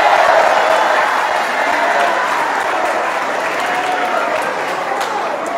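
A crowd applauds at a Teachers Day event at an Islamic boarding school in Lhokseumawe, Aceh, with dense, steady clapping that fades slightly toward the end.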